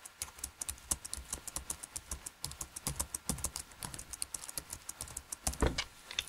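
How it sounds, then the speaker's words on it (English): Continuous fast typing on a computer keyboard, close and crisp, with rapid irregular key clicks and a heavier tap near the end. "Now watch what happens now when I begin to type."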